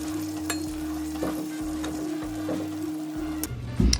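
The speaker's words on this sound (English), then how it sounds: "Now we are going to continue cooking the rest of our meat." Browned meat sizzles steadily in a pan with a few soft scrapes, close up over a constant low electric hum.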